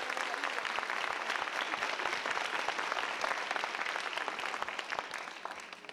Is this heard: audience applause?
yes